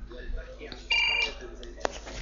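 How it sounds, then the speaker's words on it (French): At an office or hotel reception desk, a telephone gives one short electronic ring of a few tenths of a second, moderately loud, amid soft background clatter. "je vais répondre au téléphone"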